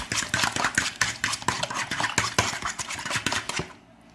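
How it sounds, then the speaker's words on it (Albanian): Two eggs are beaten briskly in a bowl, a rapid run of sharp clinking taps from utensil on bowl, close and loud, carrying on for several seconds before stopping abruptly. "E raj 2 vezët."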